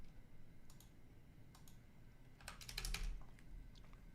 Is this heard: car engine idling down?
no